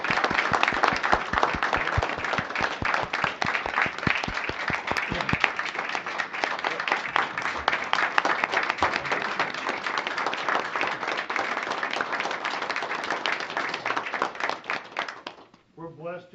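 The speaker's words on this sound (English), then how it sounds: "So please, one more time, join me in giving these guys a nice round of applause." Audience at a Napoleon, Ohio city council meeting giving a round of applause, a sharp, crisp patter of many hands that starts strong, carries on steadily and stops near the end, followed by a brief voice.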